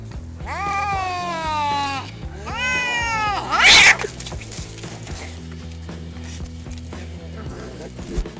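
Two cats squaring off in a fight, with long rising and falling yowls and caterwauls, a sharp hiss or spit burst partway through, then low growling and rustling scuffles close by.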